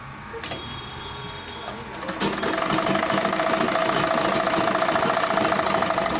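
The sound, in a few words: sewing machine stitching a welt pocket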